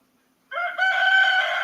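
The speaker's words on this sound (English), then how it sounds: "I love the sound of the rooster so much." A rooster crows loudly and close by, one sustained, strongly harmonic call that starts abruptly after a brief silence and holds steady to the end.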